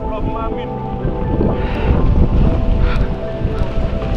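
Loud, roaring storm wind on Mount Kembang near Wonosobo, Central Java, buffeting the microphone continuously with deep rumbling gusts that swell and ease throughout.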